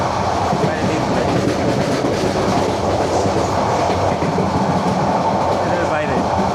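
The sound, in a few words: moving train on the Dhaka to Cox's Bazar line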